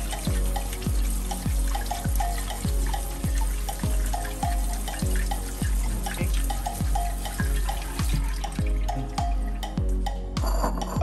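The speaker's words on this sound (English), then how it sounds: "And then we will wash the noodles." Cooked soba noodles rinsed under a running kitchen tap to remove starch, a steady splashing stream with a regular pulsing drip-and-slosh rhythm, close and fairly loud, no voices.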